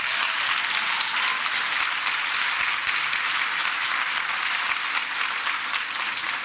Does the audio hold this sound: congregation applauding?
yes